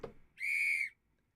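A short, clean whistle sound effect sounds once, a steady pure tone lasting about half a second after a faint click, set against near silence.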